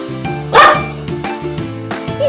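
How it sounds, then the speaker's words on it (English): A dog barks once sharply near the start and again more softly later, set over a looping cheerful children's music backing. "Yes, it is a dog."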